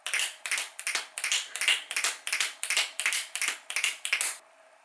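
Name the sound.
finger snaps imitating a horse galloping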